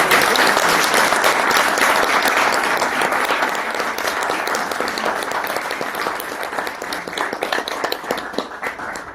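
A large audience claps steadily and loudly for several seconds, then the applause slowly thins and fades.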